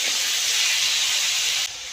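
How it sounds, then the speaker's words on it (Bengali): Pumpkin pieces frying in fish oil give a steady, loud hiss that fills the whole stretch with no talk, then drops to a slightly quieter hiss near the end. "এবার কুমড়োগুলো ভেজে নেব।"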